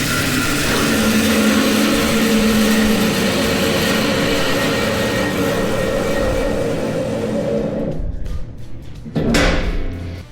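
SCM SC-600 bandsaw running with a loud, steady roar that fades as the foot brake is applied, ending in a brief clunk and some rattling.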